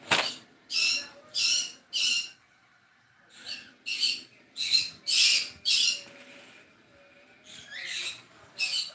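Pet birds squawk in repeated harsh bursts, three to four calls in each rapid run separated by short pauses, loud and close in an indoor room.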